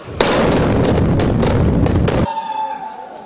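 A single loud, deep tunnel blasting explosion for a railway tunnel breakthrough in Kashmir bursts out and rumbles for about two seconds before cutting off, leaving a faint hum behind.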